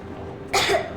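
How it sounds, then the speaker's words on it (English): A child character in the video game Metro Exodus coughs in two short bursts, a longer rough cough followed by a brief second one, close and clear with no talk. "I have this cough."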